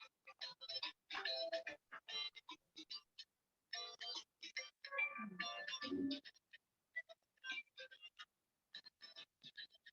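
A mobile phone plays a melodic ringtone in bright, repeating phrases, fairly quiet and slightly distant, with short gaps between the bursts.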